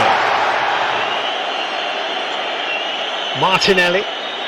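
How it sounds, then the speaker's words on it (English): Anfield crowd at a football match shouting as a warning to Gakpo, a broad, loud roar of many voices that swells briefly near the end with a few louder individual shouts. "The Anfield crowd trying to alert Gakpo to that"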